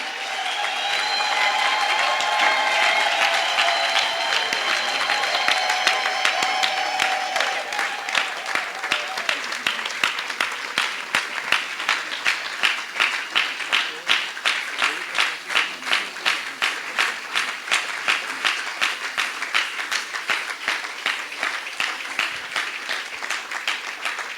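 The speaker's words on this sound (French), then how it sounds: "nous allons acclamer très fort le Seigneur" A church congregation applauds and acclaims the Lord, starting with shouts and cheering over clapping, then settling into loud, steady rhythmic clapping in unison that continues throughout.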